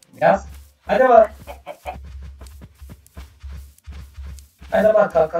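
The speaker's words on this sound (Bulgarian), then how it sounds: "Ето има и кокошка." Clucking and squawking from a chicken in a video game come in short bursts between stretches of a person talking excitedly over quiet background game sounds.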